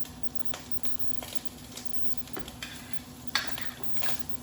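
Proteins for ramen searing in a pan, a quiet, steady sizzle with light crackles and a faint low hum, punctuated by a few soft clicks and one sharper tap.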